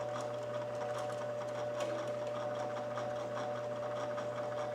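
A bench-top drill press with a plastic pulley and freshly tensioned belt drive runs steadily, holding a constant mechanical hum with a light, rapid chattering rattle throughout, close and alone with no talk.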